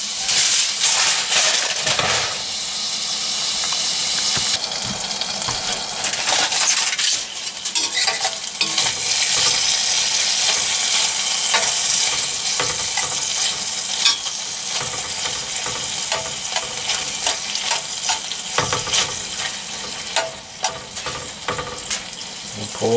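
Food cooks on a stove at a deer hunting camp, with steady sizzling and frying under occasional stirring and utensil clinks, close and continuous, plus faint background voices.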